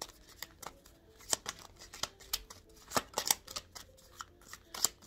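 Tarot cards are shuffled by hand in a quiet room, a steady run of close, crisp riffles and soft card slaps with uneven rhythm and no talk.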